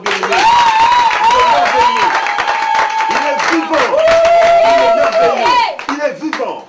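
Loud, steady clapping from a church congregation in a Congolese setting, mixed with wavering ululating voices and crowd cheering throughout, easing off near the end.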